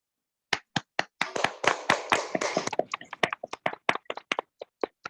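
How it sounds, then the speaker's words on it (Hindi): Audience clapping for a motivational speaker, sharp distinct claps that build into a dense burst and then thin out to scattered individual claps, close and clear. "ताबड़तोड़ ताली चाहूंगा दोस्तों"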